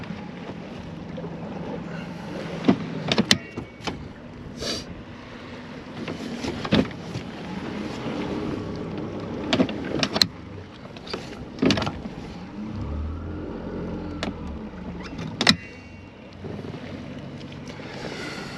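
Strong wind gusting over open water on a smallmouth bass fishing outing, a steady roar of microphone buffeting with sharp louder bursts and water lapping beneath, no voices.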